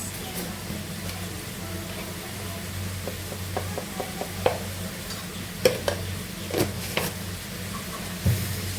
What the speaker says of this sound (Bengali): এবার ভালো করে কষিয়ে নিব কষানো হোক